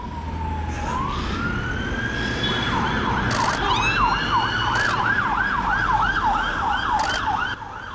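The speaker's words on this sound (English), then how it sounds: "Oh, there's a police car." A police car siren wails loudly and close, rising then cycling in a steady up-and-down yelp for several seconds, with traffic rumble underneath and no talk.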